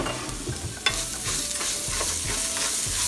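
Onion and garlic tossed into a hot frying pan, an abrupt burst of sizzling that settles into a steady hiss while a spatula scrapes and stirs, close with no talk.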